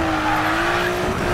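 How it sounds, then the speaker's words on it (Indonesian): Nissan GT-R R32 exhaust drifting in the Need for Speed Payback video game: a loud, steady engine drone held at constant pitch, with a raspy, squeal-like edge running throughout. "Gue demen sama suara knalpot tuh kalau gini."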